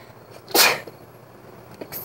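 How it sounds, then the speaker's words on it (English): A single sharp sneeze bursts out close by, followed by quiet room noise and a small breath or click. "Hang on, I have to sneeze."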